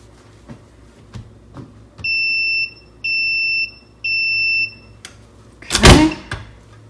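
A tumbler press timer for sublimation cups beeps three times at zero, each a long, high electronic tone of about a second with even gaps between them, followed by a brief louder rustling clunk nearby.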